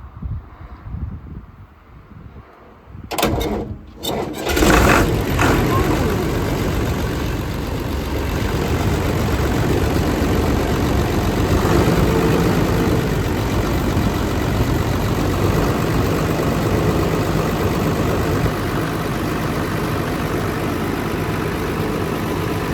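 An old Massey Ferguson MF 32 combine harvester's diesel engine idles steadily after starting up, a deep continuous rumble with a low throb that holds level throughout.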